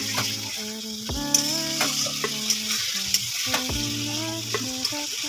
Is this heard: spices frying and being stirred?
yes